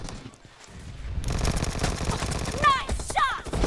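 Video game shooter gunfire crackles in a dense, steady rattle under continuous noise, with a few brief whistling tones near the end.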